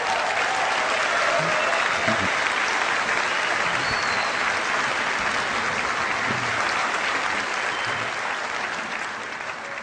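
Sustained audience applause, a dense steady roar of clapping filling the space, holding loud throughout before tapering slightly at the end.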